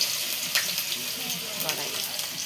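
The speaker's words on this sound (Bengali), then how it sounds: "বড়া ভাজা হচ্ছে" Eggplant fritters coated in rice flour frying in a wok, a dense crackling sizzle with small bursts and scraping, close and steady for a couple of seconds.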